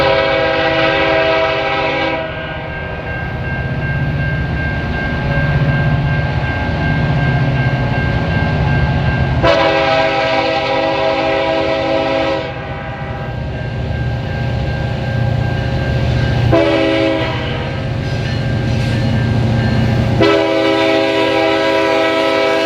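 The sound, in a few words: CN freight train with SD70M-2 and GP38-3 locomotives passing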